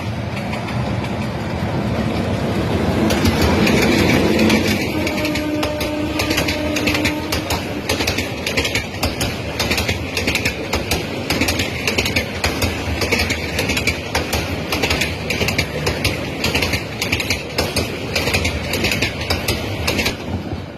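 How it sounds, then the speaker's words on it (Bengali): A train from Tongi rolls into Satkhamair railway station in Sreepur upazila. Loud, close rhythmic clattering of wheels and car mechanisms over the rails continues steadily, with a heavier rumble early on. "ট্রেন আসতেছে টুঙ্গি থেকে"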